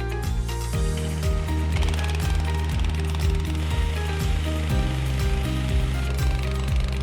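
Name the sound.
Wagman GHP Revolution brush and diamond system cleaning concrete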